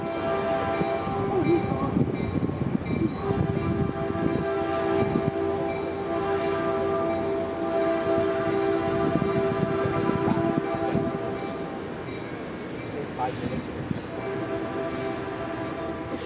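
An express train rushes past a southbound station on a California line, a steady loud rolling rumble with a faint horn tone that eases slightly near the end, no one speaking.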